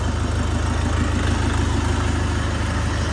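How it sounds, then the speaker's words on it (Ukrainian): A 40-horsepower SD 404 PRO mini tractor engine idles close by, a steady, even low diesel rumble with constant vibration throughout. "Двигун працює рівно"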